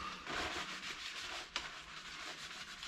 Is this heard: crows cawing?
no